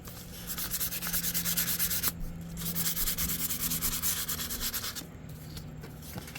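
Sandpaper rubs steadily back and forth in close, continuous raspy strokes with two brief pauses, loud and near, with no voices.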